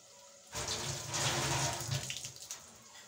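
Tap water runs steadily over green chillies being rinsed, a close, full splashing stream that begins abruptly and continues throughout.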